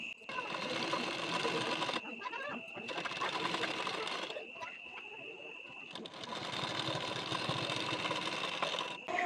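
Sewing machine stitching a size 40 blouse, running in three steady bursts of rapid mechanical clatter with brief pauses between, close and moderately quiet, with talk in the background.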